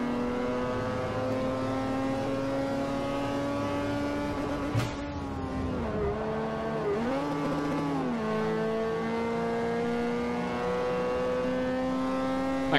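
A Wankel rotary engine in Forza Motorsport 4 drones high and buzzy at a fixed pitch, briefly dipping and rising as it shifts, a smooth rotary whine continuing throughout.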